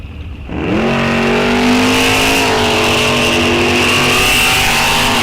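Mopar drag race cars, a small block against a big block, roar loudly at a drag strip during a Wisconsin state championship, with engines revving up and holding a steady rising howl after a brief quiet start.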